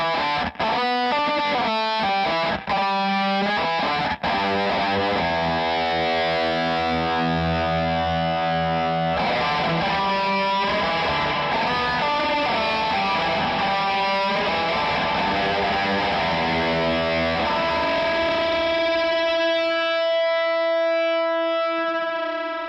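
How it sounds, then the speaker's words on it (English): Electric guitar through an amp with fuzz and reverb combined, thick distorted riffs and chords that blur into a messy, lingering wash, ending on a long droning sustained note. "You notice with that reverb, it got a bit messy, right?"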